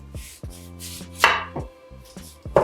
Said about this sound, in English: And cut a disc out of it.